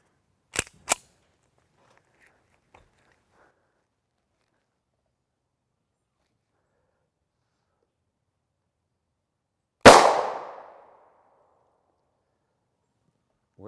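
Gunfire at a polyethylene body armor panel during a ballistic test: two sharp, close reports in quick succession, silence, then a single loud blast with a short decaying tail.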